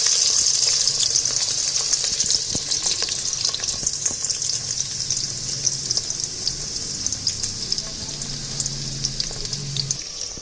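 Sliced onions sizzle steadily in hot oil in a pan as the base for creamy chicken karahi, a loud, continuous hiss with small crackles and occasional stirring, with no talking.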